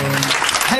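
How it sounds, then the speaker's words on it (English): A live concert audience applauds for a country singer, a dense wash of clapping that fills the whole brief moment with a voice faintly present underneath. "a big round of applause"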